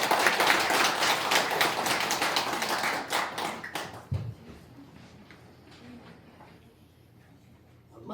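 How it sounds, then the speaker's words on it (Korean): An audience applauding at the opening of a small indoor forum event, a burst of dense, brisk clapping that fades out after about four seconds, leaving a quiet room with faint movement. "여러분의 뜨거운 박수와 함께 시작하도록 하겠습니다."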